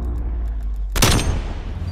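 A gunshot burst in Call of Duty Black Ops gameplay: a sharp, loud broadband blast strikes about halfway through, trailing into a brief rattle over a steady low in-game rumble, with no talk.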